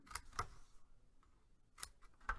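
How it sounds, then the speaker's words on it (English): Sharp scissor snips cut paper for a handmade traveler's notebook pocket, a few crisp close clicks spaced apart with a quiet gap in the middle, soft and isolated. "I'm going to take my scissors and I'm going to cut out that square at an angle"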